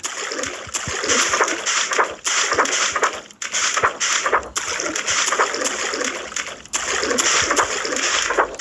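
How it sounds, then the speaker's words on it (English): Water splashing in the video game Open the Door, a busy run of wet splashes and sloshing in bursts separated by brief pauses, fairly loud and close. "There's water."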